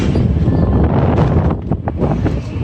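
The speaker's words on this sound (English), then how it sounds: "this wind is serious out here" Strong wind blows hard outdoors at a plaza in Portmore, Jamaica, a loud continuous roar buffeting the microphone close up, briefly easing midway before surging again.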